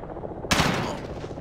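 A single sharp gunshot in the video game Modern Warfare cracks out suddenly after a quiet moment, loud and close, then fades into a short rumbling tail over low background noise.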